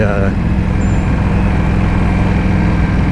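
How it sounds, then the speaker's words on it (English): A steady motorcycle engine drone rumbles continuously at close range during a night ride, a low idling motor running throughout without change. "you can actually hear the motorcycle"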